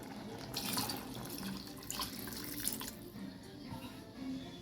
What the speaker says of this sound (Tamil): இது நல்லா வேகணும், அதுக்காக தண்ணி ஊற்றுறேன்.